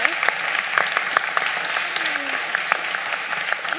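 Audience members at a conference panel clap for a panelist, a brisk spell of scattered, fairly close handclaps with a voice briefly heard under the applause.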